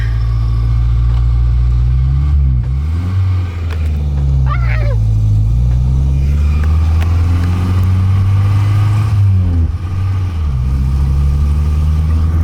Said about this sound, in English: The car sounds kind of weird. It's struggling, but I think we'll make it.